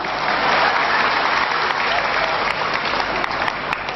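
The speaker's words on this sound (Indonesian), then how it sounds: "tepuk tangan untuk sampean" Dense, steady applause from an audience at an Indonesian sermon, loud and continuous for the whole stretch with no voices over it.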